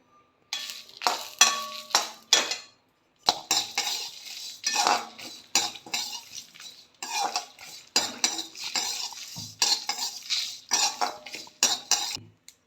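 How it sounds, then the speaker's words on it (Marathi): Curry leaves, green chillies, flaxseed and urad dal dry-roasting together in a pan for a sesame chutney, with a spoon scraping and clinking against the metal in busy bursts and brief pauses, and no talk. "कढीपत्ता, जवस आणि उडदाची डाळ हे मी सगळं एकत्र भाजून घेते आहे"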